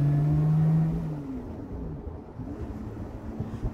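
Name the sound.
Lotus 3-Eleven road version accelerating hard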